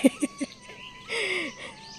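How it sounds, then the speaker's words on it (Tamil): Small sparrow chirping in quick bright bursts near the start, followed by a longer, louder twittering passage, with a faint steady whistle-like tone running underneath. "எனக்கு இந்த சவுண்டு எங்கே கேட்டாலும் அங்கே என்ன பண்ணுது அந்த குருவி அப்படின்னு பார்ப்பேன்"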